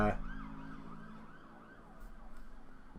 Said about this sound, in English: ignore the siren there.